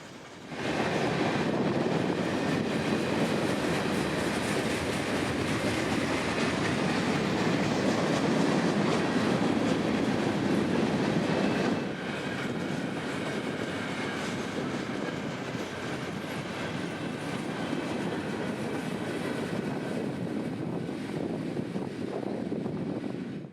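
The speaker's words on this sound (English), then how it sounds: "L772 would be huge today, looking more like a manifest freight than a local." A long freight train on Central Florida's A Line near Auburndale rolls past with a loud, continuous rumble and wheel clatter that holds steady for the whole stretch.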